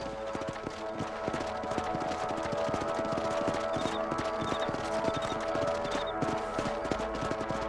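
Horse hooves clip-clop steadily in Red Dead Redemption on Xbox 360, an even trotting rhythm heard up close over a continuous bed of game ambience.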